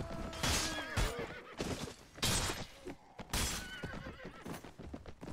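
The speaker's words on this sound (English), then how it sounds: "These are some really cool looking horses though." Horses in the video game Mount & Blade Warband whinny and neigh repeatedly amid hoof clatter and thumps of a battle, loud and close with no talk.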